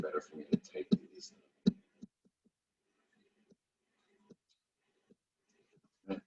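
Someone types on a computer keyboard, giving sparse, faint, isolated key clicks spaced well apart after a brief stretch of speech at the start.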